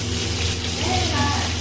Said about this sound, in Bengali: দেখো ভাজা হচ্ছে, কিন্তু চিংড়িগুলো বেশি ভাজবে না।